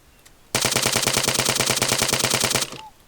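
Sustained automatic gunfire aimed at a building in Arma 3, a dense rapid burst of about two seconds, loud and close, set between quieter stretches with no talk over it.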